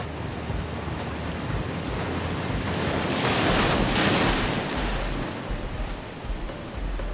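Ocean waves break in the surf zone with a continuous loud rushing roar that swells to a crashing peak midway and subsides, mixed with buffeting wind noise on the microphone.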